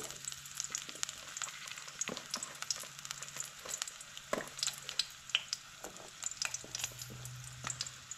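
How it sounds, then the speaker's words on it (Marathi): Garlic, ginger and curry leaves fry in hot oil in a pan for a Goan chana masala, giving a continuous close sizzle broken by frequent sharp crackles and pops. "हे लसूण, आलें, करपील हलकेशें भाजून घेयात।"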